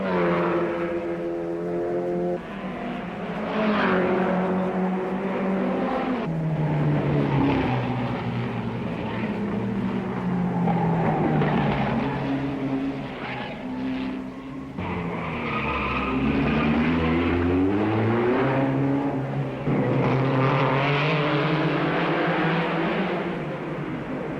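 Engines of 1959 racing cars roar steadily through a race, with rising and falling pitch as the cars pass and change gear. The sound is loud, continuous and layered, and nobody speaks over it.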